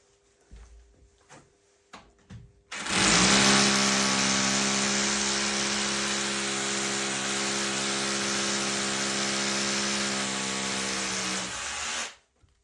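A Lion rotary hammer drill starts after a few soft knocks and runs loudly and steadily for about nine seconds with a harsh buzzing whine, then cuts off.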